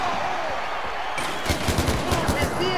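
Rapid gunfire in the Far Cry 4 video game during an arena battle: a quick string of close, sharp shots in the second half, over steady game background noise.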